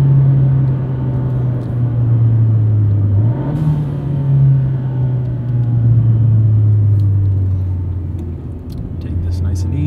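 A 2017 Fiat 124 Spider's engine fitted with an aftermarket blow-off valve hums at a low, steady drone from inside the cabin while cruising, pitch dipping and rising slightly, with a brief hiss midway and faint clicks near the end.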